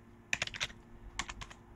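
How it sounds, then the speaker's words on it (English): Fingers tap a computer keyboard in two quick bursts of several close, crisp keystrokes, separated by a short pause, with no voices. "So I'm gonna type it quickly."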